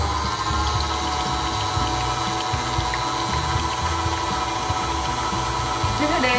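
An electric beater whips cream at low speed for a cake decoration, a continuous loud motor whir with rattling as the beaters turn through the bowl.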